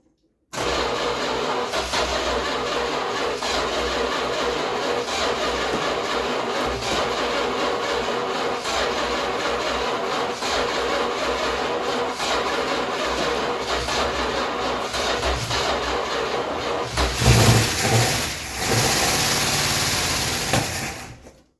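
A 1966 Chrysler New Yorker, parked for 18 years, cranks and catches, then runs at a steady, rough idle for most of the stretch, with a brief rev surge near the end before settling again.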